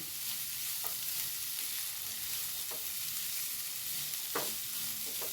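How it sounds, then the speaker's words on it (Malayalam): Amaranth stems and prawns for a Kerala thoran are stirred in a pan, with a soft continuous sizzle and a few distinct scrapes of the spoon against the pan at intervals. No one speaks. "ഇനി ഒന്ന് മിക്സ് ചെയ്യാം"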